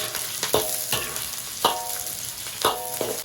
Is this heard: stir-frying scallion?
yes